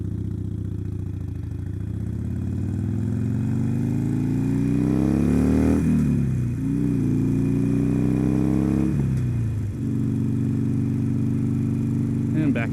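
Motorcycle engine riding through traffic, steadily revving and climbing in pitch, then dropping briefly twice as the rider shifts up through the gears, ending in 4th; a continuous loud, close drone with no talk over it.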